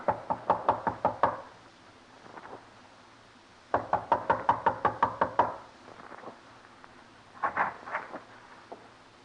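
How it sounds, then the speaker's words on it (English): Knuckles rapping on a wooden door in an old radio drama, three bursts of quick, firm knocks with pauses between, fairly close and crisp, without any talk. "Knock."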